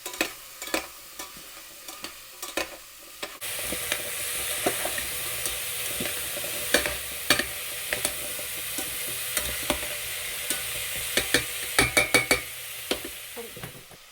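Kale and tomato cooking in a soup pot, a soft steady sizzle with scattered clicks and stirring clatter, faint and close, with no talking.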